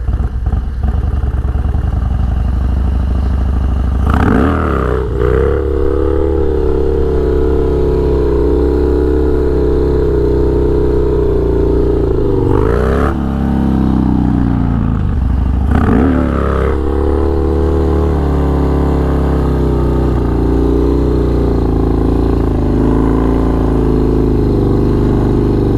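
A Harley-Davidson Dyna motorcycle revving hard through a staggered wheelie, its loud engine droning steadily close by, with several sharp rev swells and dips breaking the roar throughout.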